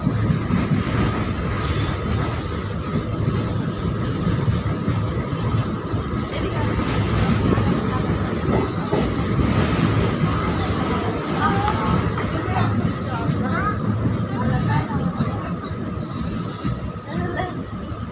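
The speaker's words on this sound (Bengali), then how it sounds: "আমরা এসে পৌঁছেছি আদিনা স্টেশনে।" Malda Town–Katihar passenger train arriving at Adina station, heard as a loud continuous rumble of carriages with wheel squeal and clatter as it slows, steady throughout.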